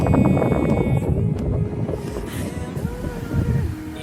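Steady, loud whooshing fan noise from a TCL split inverter air conditioner at full speed, a broad airy roar that continues without a break through the whole stretch.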